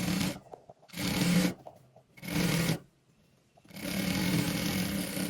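A sewing machine runs a half-inch hem on a frock in several short, loud bursts of whirring stitching separated by near-silent pauses, the last run longer and steady.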